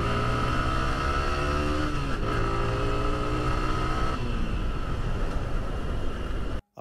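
A second-hand Yamaha R15 V3, Thailand version, drones steadily during a test ride, its engine pitch rising and falling through gear changes before cutting off abruptly.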